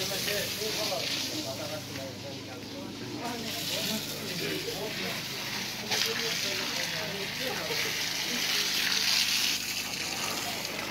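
An electric water pump filling a water tank at a drinking-water installation, steady rushing and gushing flow with a dense hiss throughout, fairly loud and close, with voices talking over it.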